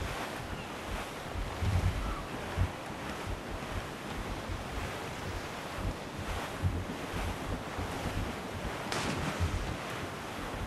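Steady wind roars over rolling ocean waves in the video game Assassin's Creed IV: Black Flag, a continuous rushing wash with occasional heavier swells and no voices.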